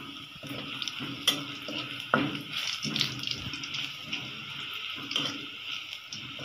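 Garlic fries in a pan on a rainy-day home stove, giving a soft, continuous sizzle broken by a few sharper clinks and stirring scrapes, close and fairly quiet, with no speech.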